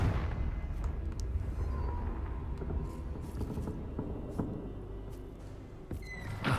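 A Confringo fire-blast spell is cast in Hogwarts Legacy, producing a rumbling, crackling burst with several sharp impacts scattered over steady game ambience. No one speaks.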